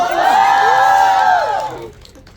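A large crowd in a thank-you event audience cheers and whoops loudly in a sustained roar, welcoming guests on stage, that drops off sharply near the end.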